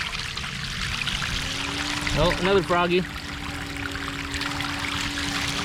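Water carrying filter powder drains from a backyard pool filter in a steady, close rushing pour, with a short spoken exclamation partway through.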